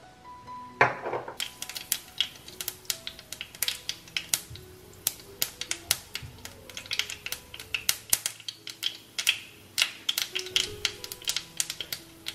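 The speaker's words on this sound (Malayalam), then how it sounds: "കടുക് നല്ലപോലെ പൊട്ടി വരുന്നുണ്ട്." Mustard seeds popping in hot oil left from frying raisins, a rapid irregular series of sharp crackling pops close by, building and continuing throughout without speech.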